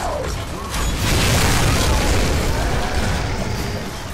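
Boomshot grenade launcher fire in Gears of War Horde mode, a dense loud blast with a heavy low-end rumble and mechanical clatter sustained over several seconds, swelling after the first second.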